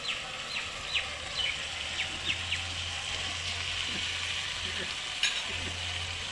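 Ginger, garlic and chilli paste with cumin frying in hot oil for a katla fish head and rice dish, a steady close sizzle with scattered crackles and pops over a low hum.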